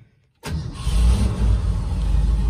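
After a moment of silence, a 1967 Ford F-100 pickup's V8 engine cranks and catches, settling into a deep, rumbling idle that continues close by.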